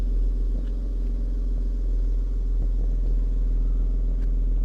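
A BMW X3 M Competition idles and creeps in reverse out of a parking space, a steady deep engine rumble close by with faint clicks and no spoken voices.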